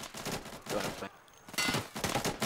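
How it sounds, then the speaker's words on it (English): Bursts of gunfire in the tactical shooter Insurgency, dense rapid shots in two loud clusters separated by a brief lull, with no talk over them. "I'm getting shot at!"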